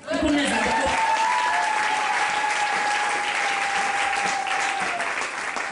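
A church congregation applauds loudly and steadily for several seconds, dense clapping from a large crowd with a sustained voiced tone held over it.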